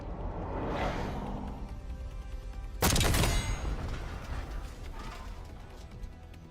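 A spawn tube fired in Black Ops 6, a single sharp loud launch and blast cutting through steady background game noise, followed by a fading rumble.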